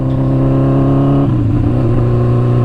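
Suzuki GSX-R 750 motorcycle engine held at a loud, steady rev, its tone dropping and roughening midway before settling back into a strong drone, close by with no talking.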